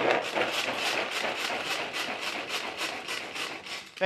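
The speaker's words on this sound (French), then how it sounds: "carotte, on va venir hacher ça" Carrots are chopped on a board in a kitchen while preparing pea soup, a rapid, even series of close knife strikes with a scraping, rasping texture, heard alone.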